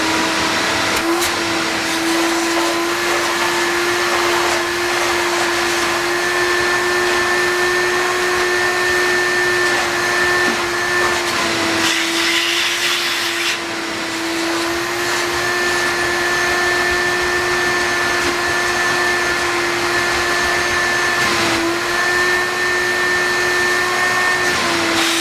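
Carpet extractor vacuum sucking cleaning solution back out of a soiled carpet and its pad, a loud steady motor whine with a high tonal hum that continues unbroken, dipping briefly midway, with no talking.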